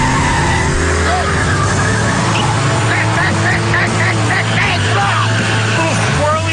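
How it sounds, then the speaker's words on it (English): A Ford Mustang with a 260-horsepower engine launches from 0 to 60 on an empty road, its loud, steady engine roar carrying through with tires squealing and skidding as the car slides sideways. "putting the pedal to the metal with a 0 to 60 on an empty road"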